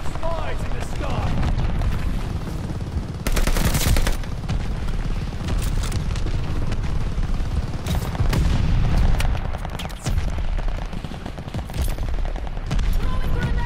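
Incoming enemy shells and gunfire fill a Call of Duty Vanguard battle: steady rattling shots under loud thumping blasts, with heavier bursts recurring every few seconds, while players talk over the din.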